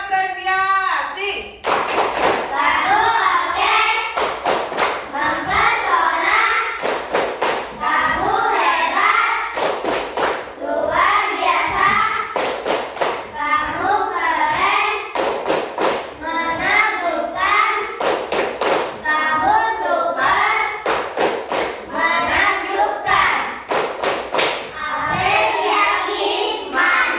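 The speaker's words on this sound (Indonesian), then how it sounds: "Oke. Baiklah, kita akan berikan dia tepuk" A classroom of pupils claps in unison, performing a rhythmic appreciation clap in repeated patterned sequences of sharp beats, mixed with children chanting along and loud, close throughout.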